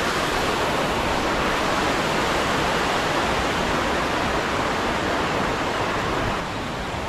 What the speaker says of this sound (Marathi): समोर दिसतंय बघा पाणी वरून पडतंय ते धबधब्याचं।